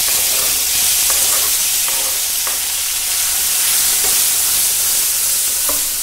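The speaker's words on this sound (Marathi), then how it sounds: "तर आता आपण हे परतवून घेऊया" Chopped tomato with cumin, red chillies and turmeric sizzles and fries steadily in a hot pan for idli sambar, a loud continuous crackle with occasional stirring scrapes.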